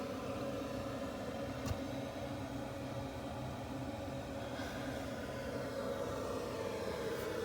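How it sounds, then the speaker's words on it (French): A ventilation fan in a newly explored cave gives a steady, unbroken broadband whoosh with a low rumble, constant in level throughout and carrying no voices. "ce que vous entendez là, c'est l'aération"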